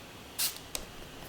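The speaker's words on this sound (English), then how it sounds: "I'm just going back in with my Makeup Forever Mist and Fix spray, and I'm gonna spray primarily just the eye area" Makeup Forever Mist and Fix setting spray misted onto the eye area: one short hissy spritz then a fainter second puff, close and quiet.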